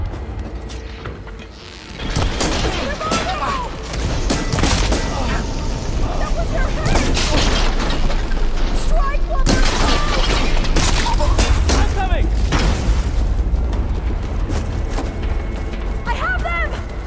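Enemy gunfire in Horizon Forbidden West rattles in loud overlapping bursts with booms and mechanical clanks, continuous and close, while voices talk over the shooting.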